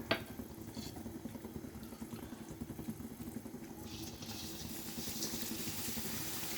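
Boondi batter dropping into hot oil for sweet boondi, giving a steady crackling, bubbling sizzle close by that swells slightly louder toward the end, with no voices.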